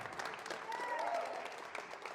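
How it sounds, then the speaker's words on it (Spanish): Applause from a church congregation fills the space, a steady wash of clapping at moderate volume that holds evenly throughout. "Denle un fuerte aplauso a Cristo."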